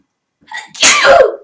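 A single sharp sneeze during a Dungeons & Dragons tabletop session, with a short inhaled build-up followed by a loud, close explosive burst that trails off quickly.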